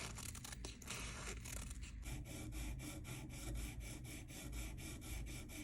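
Platinum is sanded by hand with 320 grit sandpaper, a quiet, close, continuous rasping scrape that settles into regular rhythmic strokes after a busier start, with no talking.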